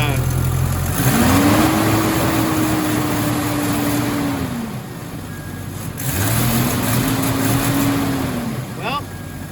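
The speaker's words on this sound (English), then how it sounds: "I know it idles a bit on the high side, but when it idles, it starts every time." A Jeep XJ Wagoneer engine idles high, humming steadily with two rising and falling swells in pitch. Someone talks over the running engine throughout.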